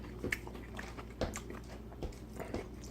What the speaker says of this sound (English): Tater tots are crispy. Wow, nice and crunchy.